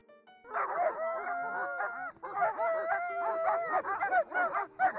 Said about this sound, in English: Pongo and Perdita then start a gossip bargaining throughout London known as the Twilight Bark.